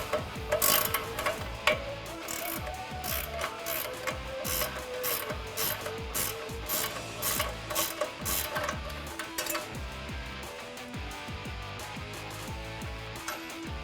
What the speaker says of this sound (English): So we can get our 21mm ratcheting wrench on top and a 10mm socket on the bottom, and that will make sure our stud doesn't spin.